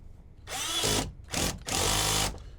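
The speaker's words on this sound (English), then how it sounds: "Now this drill is set" A power drill whirs loudly in two bursts, revving up and slowing as it tightens bolts during a 6.7 Powerstroke fuel filter replacement, close and strained, with a brief pause between.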